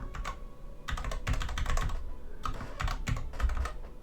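Fingers type on a computer keyboard in quick irregular clusters of clicking keystrokes, close and fairly soft, with short pauses between bursts and no talking.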